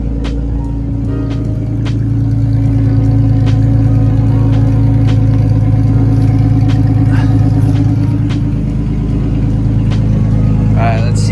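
A car engine runs steadily after a welded-differential job, with a constant low hum and drone throughout, loud and close, with a few faint clicks and rattles on top.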